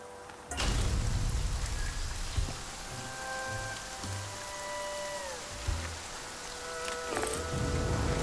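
Rain falls steadily in the survival video game The Flame in the Flood, a constant close hiss over tonal game music with a few sharper splashes.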